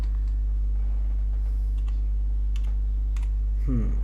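A computer keyboard tapped a few times to type a short word while designing a logo, sparse faint clicks spread over a few seconds against a steady low hum, ending in a brief louder noise.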